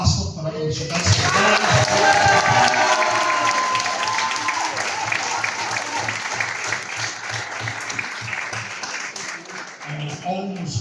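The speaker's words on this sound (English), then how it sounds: "We've also got a huge round of applause for Nicola Glassford for everything she does." Whoops and shouts open a long, thick round of clapping from an awards-night crowd at a youth football club, the applause holding steady before tapering off as a voice returns.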